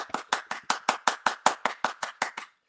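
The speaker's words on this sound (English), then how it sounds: "Can we get a hand clap, everybody?" Hands clap in a quick, even rhythm, about a dozen crisp, close claps over two and a half seconds before stopping abruptly, with no talking.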